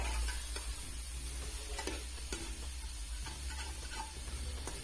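Potato keema with bell pepper being stirred in a pan, a spoon scraping and knocking in irregular soft strokes over a faint continuous sizzle, fairly quiet and close with no talking.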